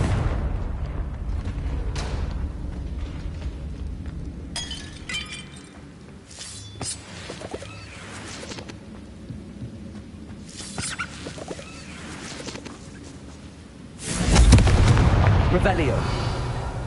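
A Confringo blasting spell in Hogwarts Legacy gameplay ends in a loud, booming explosion near the end, after a stretch of muffled game ambience with scattered crackles and clinks.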